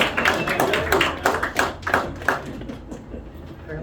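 An audience at a magic show in a Nashville venue breaks into clapping, a brisk burst of many hands that is loud at first, then thins and fades toward the end.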